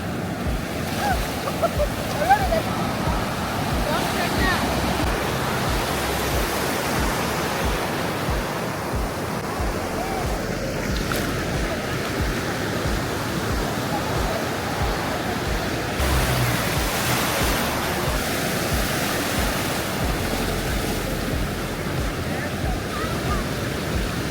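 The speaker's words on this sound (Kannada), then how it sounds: "ದೊಡ್ಡ ಅಲೆ ಬರ್ತಾಯಿದೆ ನೋಡಿ" Big ocean waves break and roll in at Kannur Beach in Kerala on an evening, a continuous loud, hissing surf roar with surges, and people talk faintly at times beneath it.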